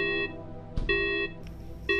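An electronic alarm marking the end of breakfast at a school, sounding as repeated steady beeping tones in short bursts with brief clicks between them, fairly quiet and clean.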